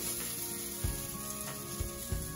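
A spoonful of lentil kabab mixture fries in a little oil, giving a faint, steady low sizzle with a few soft thuds near the pan.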